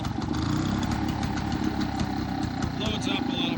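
A 1947 Frazer rototiller's small engine idles steadily at close range, a rapid, even putter with a low thrumming pulse, while someone talks over it.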